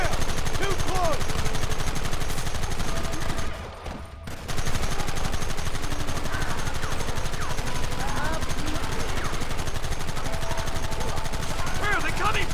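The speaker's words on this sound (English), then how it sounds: "There they are! Open fire!" Sustained gunfire in the Western video game Red Dead Redemption, dense rapid shots and loud continuous action noise throughout with a brief dip partway, shouted game voices mixed in.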